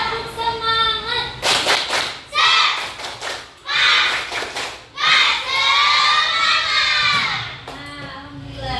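A class of schoolchildren shouts a rhythmic spirit-clap chant, loud voices broken by bursts of synchronized clapping and thumps, close and energetic.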